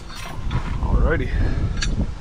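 A primary clutch spring pops free of a Kawasaki KRX aluminum clutch: a short metallic creak and scrape, then a sharp brief clank, close against a steady mechanical background.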